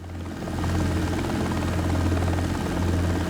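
A helicopter rotor in the X-Plane 12 flight simulator game drones in a steady, loud, continuous thrum with a low pulsing beat, swelling slightly at the start and then holding level, with no talk over it.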